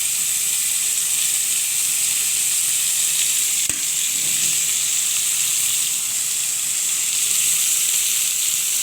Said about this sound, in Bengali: ভাজার জন্য এইভাবে উচ্ছেটা এরকম ছড়িয়ে দেওয়া যায়, তাহলে ভাজাটা খুব ভালো হবে।